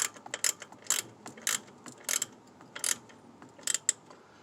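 A wrench ratchets in quick, light clicking bursts while tightening the brake master cylinder nut on a 1989 Ford F250, close and fairly quiet with short pauses between strokes.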